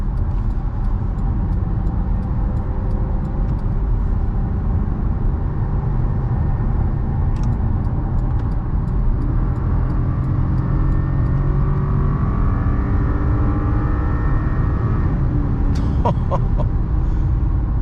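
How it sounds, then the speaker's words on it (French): The 4.6-litre V8 engine of a 2009 Cadillac STS drones steadily throughout with a deep, rumbling tone that rises as it revs, loud and close, with no voices. "C'est juste le kiff d'entendre le V8 en fait."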